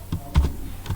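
A few key presses on a computer keyboard while typing HTML code, quiet and close, with soft clicks spaced irregularly over a moment.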